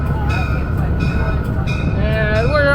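Steady interior rumble of a Budd RDC rail diesel car on the Reading and Northern, slowing into Port Clinton, with faint wheel and brake squeal tones rising near the end over the continuous loud drone.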